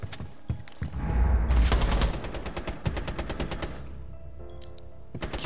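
Gunfire in Rainbow Six Siege: rapid automatic bursts and sharp single shots, loud and dense at first, then a steady volley of evenly spaced reports, with no talking.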